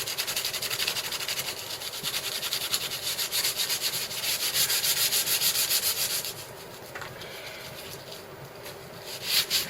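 A wooden walking stick is rubbed with coarse sandpaper, starting at 40 grit, producing a continuous, close, gritty scratching with rhythmic back-and-forth strokes that soften briefly and then pick up again.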